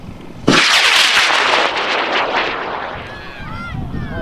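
Model rocket lifting off on a J350 motor and failing: a sudden loud roaring blast at launch that holds for a few seconds, then fades into crackling and whooshing debris noise.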